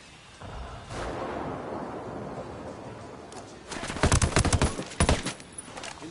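A frag grenade explosion in the tactical shooter video game Ghost Recon Wildlands, a low rumbling blast followed by a burst of loud, crackling impacts and debris around the four-to-five-second mark.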